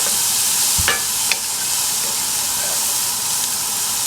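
Chickpea succotash with aged sherry vinegar sizzles steadily in a pan at a camp stove, a continuous frying hiss with a couple of brief scraping stirs near the start.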